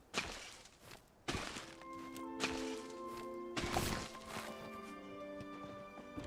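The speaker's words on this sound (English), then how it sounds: "I need to chop down that tree and that bush" A tree and a bush are chopped down in the farming game Palia: about four sharp, hollow thwacks spaced roughly a second apart, each followed by a ringing chime-like tone.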